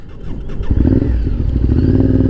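A motorcycle engine restarts after stalling, catching with a brief clatter and then settling into a loud, close, steady running rumble.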